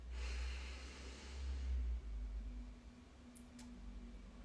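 A slow, deep breath drawn in during a guided breathing exercise, a soft, close airy inhale that swells for about two seconds and then fades into quiet room hiss.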